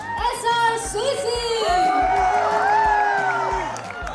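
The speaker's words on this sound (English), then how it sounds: "Give it up for the young pool of your own college, SRCC!" College crowd at an SRCC event cheering, whooping and clapping, a loud dense swell of voices and applause building and holding near the front, with an announcer's voice over it at the start.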